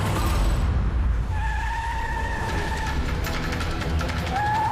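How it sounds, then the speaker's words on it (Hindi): A car engine runs steadily while tires squeal in drawn-out tonal screeches as the vehicle pulls away, loud and close, with no talking. "गाड़ी शुरू कर।"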